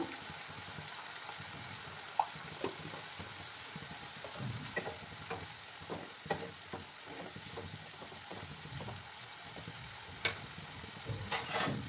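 Spices and tomato frying in a pan for a taro root gravy, a quiet steady sizzle broken by repeated light scraping and tapping of the stirring spoon, close and unhurried.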